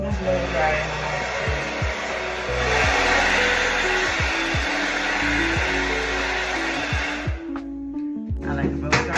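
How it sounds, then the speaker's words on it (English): A blow dryer roars steadily for several seconds under a voice talking while a wig is installed, then cuts off near the end. "And what I like to do is go and put my blow dryer on."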